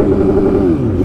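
A rose gold S1K motorcycle engine holds a steady, loud, close drone against the pit limiter, with a low buzzing tone that barely wavers over a brief moment.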